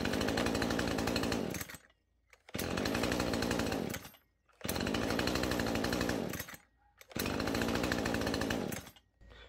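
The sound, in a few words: Husqvarna 135 Mark 2 chainsaw starting warm and running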